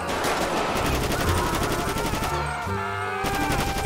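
Rapid automatic submachine gun fire in the video game GTA 5 during a zombie mod, loud dense bursts of shots that continue for most of the moment before briefly breaking off and resuming, with game sounds underneath.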